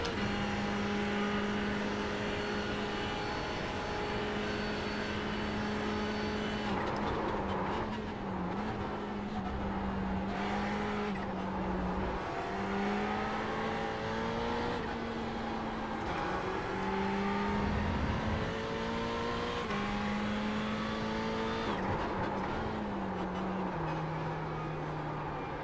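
Ferrari race car in iRacing at Spa: a loud, sustained engine drone with repeated climbing revs, sharp gear shifts and throttle lifts through corners, continuous and up close with no talking.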